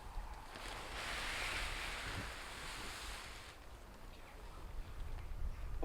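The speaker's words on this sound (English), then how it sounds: "The wind is coming across this way." Wind gusts outdoors during a tarp tent pitching, a soft, steady rush that swells and fades, faint and with no voices.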